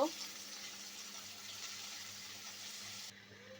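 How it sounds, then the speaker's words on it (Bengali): Chopped onions fry in a pan for a puti fish chorchori, giving a steady, soft sizzling hiss throughout that softens sharply just before the end, with a voice speaking over it. "এবার দিয়ে দেবো পেঁয়াজ কুচি নেড়ে চেড়ে পেঁয়াজ কুচিগুলো ভেজে নিব"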